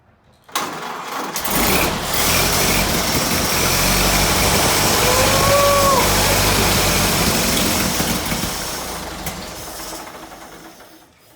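A rebuilt 1929 Ford Model A engine starts up and runs steadily at a loud, close idle with a dense mechanical clatter, running without water in the radiator after its choke had blown open.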